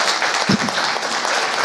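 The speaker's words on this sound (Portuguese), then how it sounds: "Eu queria pedir uma salva de palmas para os nossos palestrantes." An audience at a debate event claps for the speakers, a dense, continuous wash of applause at steady loudness throughout.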